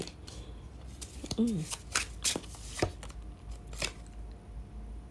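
Tarot cards are handled and turned over one after another, giving crisp close slaps and rustles at an irregular pace, with a faint voice briefly underneath.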